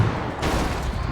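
Gunfire in the horror action game Alan Wake, a dense rapid burst of shots filling the short moment, loud and close with no talk over it.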